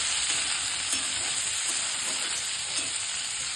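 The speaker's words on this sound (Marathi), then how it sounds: "आणि नुसतं तेलावर तोंडली छान वाफून येणार." Ivy gourd (tondli) frying in oil with salt added, a loud, steady, close sizzle hissing evenly throughout without pause.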